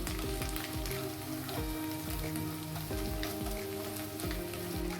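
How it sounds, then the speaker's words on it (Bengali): Beaten egg mixed with turmeric frying in a pan gives a dense, even sizzle, steady and moderately loud, with music layered over it. "তো ভালোভাবে মিশিয়ে নিব এবং ডিমটাকে ভেজে নিব।"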